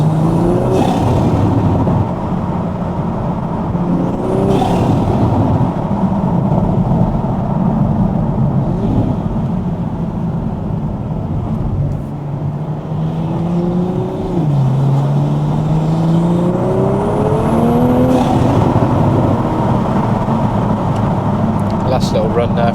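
A Toyota GR Supra fitted with a titanium exhaust and ARMASPEED intake on a night drive through a UK village, its engine droning and bellowing steadily from inside the car, with rising and falling revs through gear changes.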